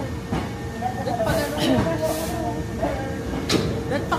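Train pulling into a station in Kyoto, Japan, with a steady low rumble, hiss and brief squeals under busy platform noise and voices.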